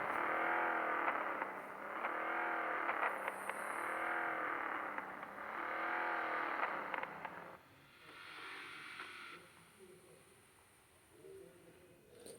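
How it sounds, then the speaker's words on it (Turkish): A smooth video game car engine hum rises and falls in repeated revving sweeps as it accelerates in the mobile open-world game Garena Free City, then eases into a quieter drone. "Aracın sesine bak lan ne güzel."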